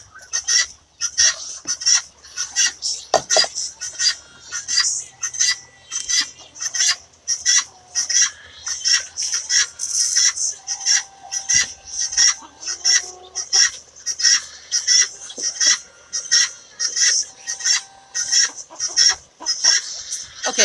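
A flock of heritage-breed chickens squawks and clucks loudly and continuously while being fed indoors, close by, in a rapid pulsing rhythm with no talking.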